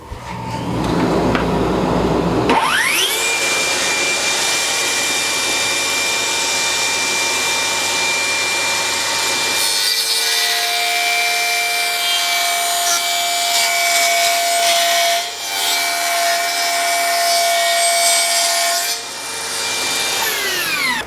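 A table saw with a jointing jig trims thin strips off the edges of pallet wood boards: a loud, sustained whining motor roar with a high, ringing cutting tone that shifts as the wood feeds through.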